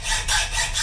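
A hacksaw bites into 16 mm cold rolled mild steel bar in a brief, loud, close rasping stroke, the harsh metallic grind swelling and easing across a single pass.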